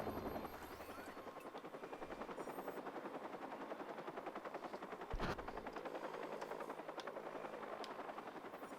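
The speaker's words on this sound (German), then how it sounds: "Wo ist der Helikopter?" A helicopter in the video game Watch Dogs drones with a steady, loud rotor chop that fills the whole stretch, joined by a sharp burst near the middle and faint clicks with no talk.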